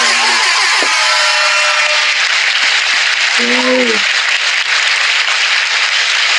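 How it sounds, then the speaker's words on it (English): A live podcast audience claps steadily through a taped episode, a dense, continuous wash of applause with brief tonal whoops or cheers rising over it midway. "We got to give a round of applause for that."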